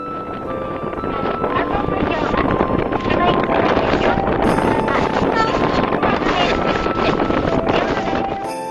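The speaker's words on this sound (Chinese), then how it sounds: "风很大，海浪一直让我吃到海水" Strong sea wind buffets the microphone during a short ferry crossing in Japan, a loud, steady roar mixed with engine and wave noise that runs throughout, with voices faintly beneath.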